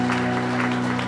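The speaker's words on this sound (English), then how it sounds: "Clap for him." Applause from the congregation at a Sunday deliverance church service, a steady, dense burst of clapping that fills the whole short moment, loud and close, with a low hum beneath.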